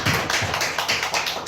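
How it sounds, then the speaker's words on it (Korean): A church congregation claps together during a worship service: a quick, rhythmic run of hand claps, dense and close, with no talking over it. "영광의 박수 올려드립시다."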